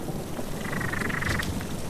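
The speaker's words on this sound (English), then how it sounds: "With it come the frogs." Frogs croak in a short trilling burst through heavy summer rain after drought in a fire-burned landscape, a fairly faint call riding over the steady wash of rainfall.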